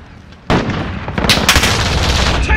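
Gunfire in Call of Duty: Modern Warfare, a sudden loud burst of rapid shots and impacts after a brief quieter moment, continuing densely to the end.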